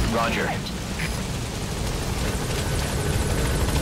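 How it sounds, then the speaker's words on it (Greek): Helicopter rotors in Metal Gear Solid V arrive for a pickup, a loud, dense, steady roaring chop that fills the whole stretch, with brief game sounds near the start and no clear talk over it. "Ήρθε κιόλας το ελικόπτερό μας. Πολύ γρήγορα. Το ακούμε στα ηχεία."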